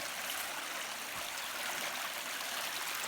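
A creek flowing near a hillside campsite, a steady, close hiss of running, trickling water that continues without a break and with no voices over it.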